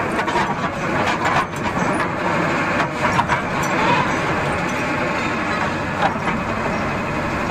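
A vehicle engine runs steadily on a pipe-laying work site, a loud, continuous rumbling drone close by with slight surges and a few knocks.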